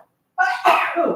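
A single person sneezes once after a moment of silence, a sharp close burst followed by a short breathy tail.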